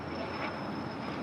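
Steady broadband jet roar from a Lufthansa Boeing 747-8 Intercontinental at LAX airport, a continuous distant rumble with a faint high whine and no distinct events, heard alone.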